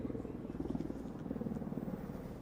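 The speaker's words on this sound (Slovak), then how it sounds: "Môžeme vidieť, ako pilot ukončuje osmičku so stúpaním nad stredom dráhy, otáča vrtuľník doľava s následným postupným sklesaním 2x do 360 stupňov pred stred dráhy." A UH-60 Black Hawk military helicopter flies at an air show display, giving a steady, fairly distant low rotor thrum with rapid blade pulsing throughout and no talk over it.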